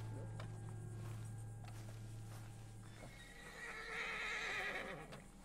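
Spooked horse whinnying in Red Dead Redemption 2 during a hunt, a drawn-out neigh with hooves clopping, fairly close over a low ambient drone.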